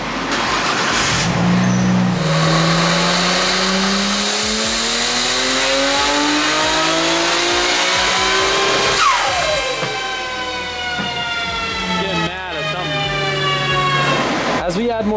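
A Nissan R34 GTR engine screams through loud power pulls, revving up in long rising sweeps, dropping, then climbing again close and intense, with a brief crackle between pulls.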